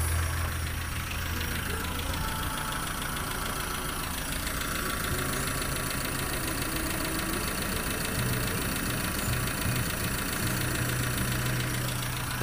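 Mitsubishi Colt car engine idling steadily after starting, a constant close mechanical drone and knock with a faint whine, unchanging throughout.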